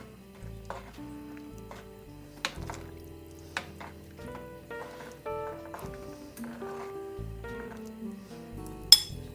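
A spoon stirs a chicken and mushroom soup in a pot after starch goes in, giving scattered metallic clinks and taps at an uneven pace, fairly close and fairly quiet.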